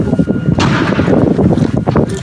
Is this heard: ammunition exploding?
yes